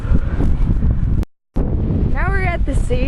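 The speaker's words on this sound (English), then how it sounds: "it's really windy out here" Strong wind at a beach buffets the microphone with a steady low roar, cut by a brief dropout, and a voice speaks over the gusts.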